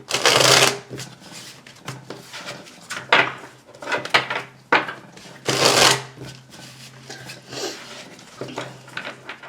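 Tarot cards shuffled by hand for a reading, in repeated riffling bursts with short pauses between them, close and fairly loud, with no talking.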